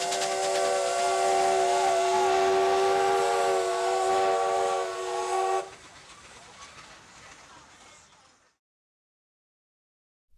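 A steam locomotive on the Jiayang small train line in Sichuan gives a long, loud, sustained whistle, then a softer hiss of steam that fades away into silence.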